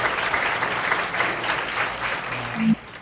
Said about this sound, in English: Please send a round of applause to Captain Curtis Flora, our year honoree for Community Care Award.